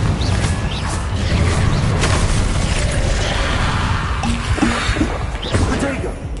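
Confringo fire-blast spell in Hogwarts Legacy, a dense rumbling burst with crackling pops and whooshes over a constant game soundscape, mixed with talk.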